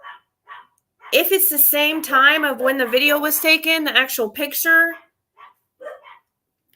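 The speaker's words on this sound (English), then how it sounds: "Sorry about the dogs." Several dogs bark and yelp in a run of high, wavering barks nearby while a person keeps talking over them.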